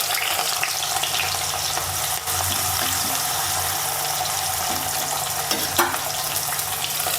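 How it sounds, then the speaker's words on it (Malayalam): Shallots sizzle steadily in hot oil in a clay pot while a fish curry is being made, a continuous close frying hiss with faint stirring clicks and no talking. "ഇതിലേക്ക് നമുക്ക് ചുമന്നുള്ളി ഇട്ട് കൊടുക്കാം"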